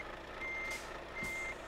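A truck reversing to park in Euro Truck Simulator 2, two evenly spaced high reversing beeps over a low steady engine rumble.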